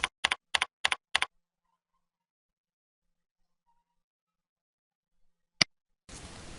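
A computer keyboard being typed on: a quick burst of five crisp keystrokes, a long silence, then a single sharp key press followed by a short hiss, close and clear.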